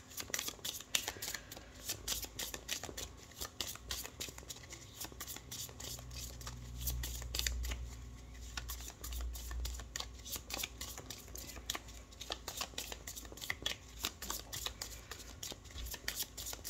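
Tarot cards shuffled by hand in a steady run of close, crisp riffling and flicking that lasts throughout, with no talking.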